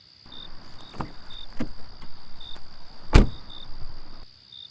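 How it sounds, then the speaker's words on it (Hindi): A car being unlocked at night with its door opened: scattered clicks and a sharp latch clunk over a steady high insect-like chirping, fairly close, with no talk. "कबीर ने गाड़ी का लॉक खोला।"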